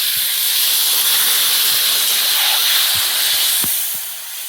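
Water poured onto frying masala sets off a loud, steady steaming hiss close by, easing off toward the end, with no voices.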